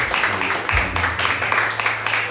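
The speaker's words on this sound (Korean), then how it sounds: "여러분 뜨거운 박수 부탁드립니다" Congregation applause in a church during a flower presentation at a Sunday service, a steady wash of many hands clapping at moderate distance, continuous throughout.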